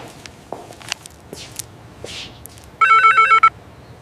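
A short burst of electronic ringing tone from an outgoing phone call after some soft footsteps and rustling, brief and fairly loud against a quiet room.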